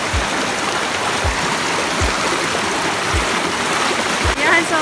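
The Labi River stream flows in a constant broad rush of water, with soft regular low thumps about once a second and a brief voice near the end.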